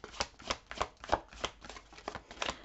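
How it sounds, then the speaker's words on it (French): Tarot cards are shuffled and drawn in a steady series of crisp, close riffling snaps and soft slaps, about three per second, quiet and with no talking. "je vais d'abord tirer toutes les cartes"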